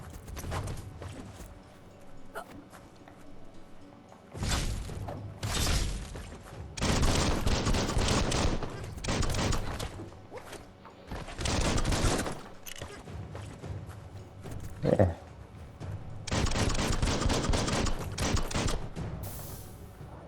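Gunfire in the video game Biomutant, loud sustained bursts of automatic fire in several long volleys separated by quieter stretches.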